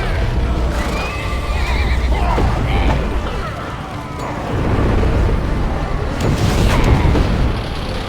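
A horse neighs loudly in the video game Kameo: Elements of Power, its whinnies rising over busy in-game action sounds, rumbling booms and hoof clatter.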